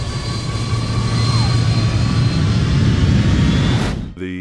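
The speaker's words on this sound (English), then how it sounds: "The engines that we hear are jet airplane engines" Jet airplane engines roar steadily with a loud, broad whine and rumble, then the sound abruptly cuts off near the end.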